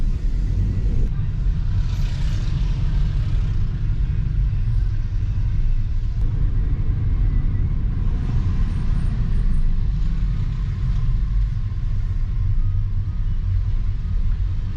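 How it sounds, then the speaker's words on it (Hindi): Heavy street traffic flows past busy markets in Istanbul, a dense, continuous low rumble of cars, buses and trucks that stays loud and close throughout. "बाज़ारों में खासी रौनक है। ट्रैफिक भी खासा ज़्यादा है।"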